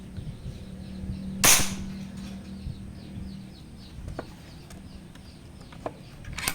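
A Taurus PCP air rifle fires a single sharp, loud crack outdoors, followed by a faint low hum and a few soft distant clicks and bird chirps in the background.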